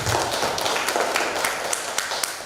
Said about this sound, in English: Please give big applause for him.